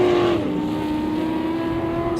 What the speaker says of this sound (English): You can hear that 44 truck just humming through the field.